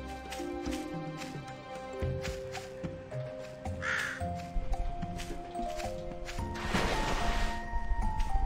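Cartoonish crow caws from the video game A Boy and His Blob, a few short calls rising over steady game music, with a brighter burst of effects near the end.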